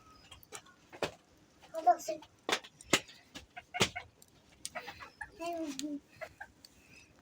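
A pet chicken clucking close by indoors in a home, short bursts of clucks spaced irregularly, with a child and an adult talking around it.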